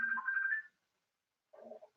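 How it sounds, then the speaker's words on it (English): A mobile phone goes off indoors with a short electronic ringtone phrase, then a pause and a second softer burst, faint and alone without talk. "Oh, hang on, that's my phone."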